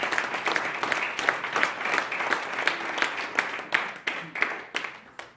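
Congregation clapping hands at a church service, dense rhythmic claps continuing steadily throughout, loud and close.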